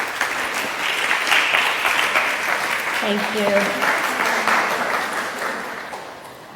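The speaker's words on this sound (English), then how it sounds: "please join me in giving her a round of applause." An auditorium audience claps steadily for a speaker at a talk, dense applause that holds strong before tapering toward the end, with a voice briefly speaking over it.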